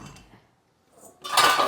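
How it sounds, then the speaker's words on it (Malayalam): Metal cooking pots and pans are handled in a home kitchen, a brief soft knock followed by a louder clattering scrape of cookware near the end. "ചട്ടി ചട്ടി എവിടെ? ഇതില് ചട്ടി ഈ ചട്ടി എടുക്കട്ടെ"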